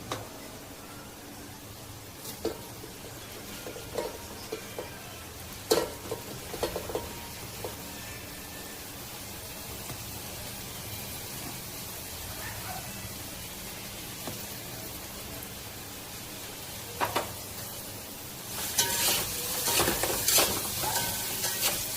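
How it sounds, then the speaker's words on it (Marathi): Finely chopped onion sautés in a pan over garlic-ginger paste, giving a steady low sizzle with occasional scrapes and stirring clatters, and a louder burst of frying near the end; no one speaks. "आणि सोनेरी कलर येईपर्यंत हा कांदा चांगला परतून घ्यायचा आहे."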